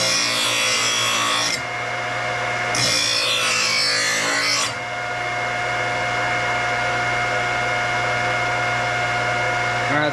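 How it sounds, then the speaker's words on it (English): A blade being sharpened on a grinder, a harsh continuous rasping grind in two loud bursts followed by a lower steady hum as the workpiece comes off, with a little talk. "I'm going to sharpen down a little bit more."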